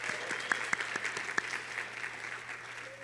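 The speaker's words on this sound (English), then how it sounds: "Give yourselves a big round of applause" Graduates at a May 2025 graduation ceremony applaud themselves, a steady wash of crowd clapping with a few sharp near claps standing out, held evenly for about three seconds.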